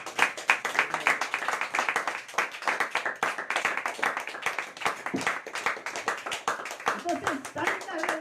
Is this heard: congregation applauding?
yes